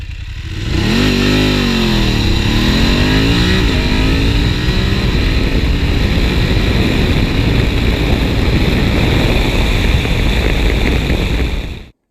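BMW 850GS motorcycle pulling hard at wide-open throttle, the engine note climbing and dropping through rapid gear shifts before settling into a loud, sustained high-speed roar that fades out at the end.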